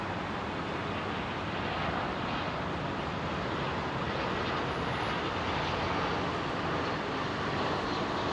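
A jet airliner departing Heathrow holds a steady, broad roar of engine thrust throughout, loud and unbroken, with no voices over it.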